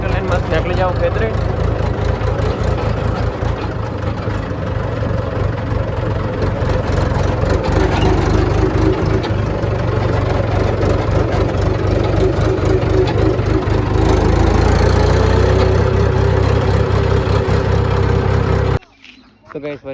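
A Mahindra tractor engine runs steadily at idle on a farm, a loud, close low rumble with a constant throb, rising slightly in intensity before cutting off abruptly near the end.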